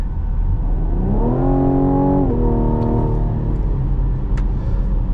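A 2021 Cadillac CT5 Premium Luxury with the 3.0L V6 kicks down under full throttle, the engine note jumping and climbing in a loud droning rise, briefly dipping at a shift, then pulling on steadily inside the cabin.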